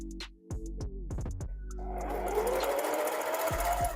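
A sewing machine stitches wig tracks onto a wig cap, starting with a few short stop-start bursts and then running in a fast, steady whir that stays close and clear until the end.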